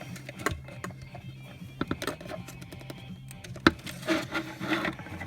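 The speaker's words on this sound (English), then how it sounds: "Back to the screwdriver." A screwdriver turns screws while installing a four-gauge pod in a 2015 Camaro interior, giving close, irregular clicks, ticks and scraping bursts with short pauses between turns.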